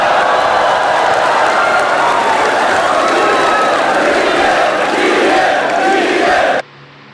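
A dense, loud crowd at a FlipTop rap battle roars and shouts without letup, with cheering and scattered clapping, then cuts off abruptly.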